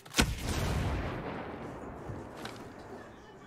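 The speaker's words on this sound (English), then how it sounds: "That explosion got their alert to come back this way." A sharp explosive blast opens, followed by a rumbling roll of gunfire and debris that fades, with a smaller report later, in the video game Ghost Recon Breakpoint; fairly faint overall.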